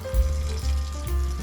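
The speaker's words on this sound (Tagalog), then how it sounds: "So ngayon ay bubuksan natin tong tubig." A water tap is turned on and runs with a steady rushing, splashing flow, close and fairly loud throughout, with no talking.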